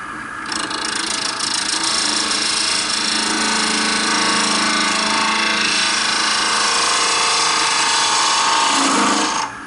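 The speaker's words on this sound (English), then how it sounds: "I'm gonna go back in there and just kind of touch it up just a little bit with my detail gouge." A wood lathe spins a wooden duck while a detail gouge cuts into it, giving a loud, steady scraping and rasping whir that runs almost unbroken, with no talking.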